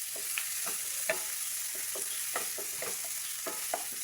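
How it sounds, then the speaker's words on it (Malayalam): Large onions frying in a pan while being stirred well, producing a soft, steady sizzle broken by repeated rhythmic scraping strokes. "വലിയ ഉള്ളി ഇട്ട് കൊടുത്ത് നമ്മൾ ഇത് നന്നായി ഇളക്കുകയാണ്."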